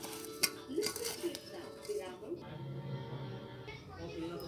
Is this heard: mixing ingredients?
yes